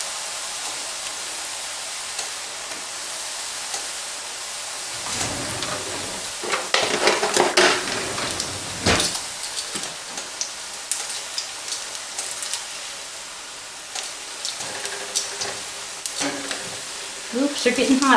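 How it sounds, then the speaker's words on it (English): Flour tortilla chips frying in hot oil, a steady crackling hiss that swells into denser bursts of sizzle and popping partway through, with a voice speaking faintly over it. "There, fry baby fry."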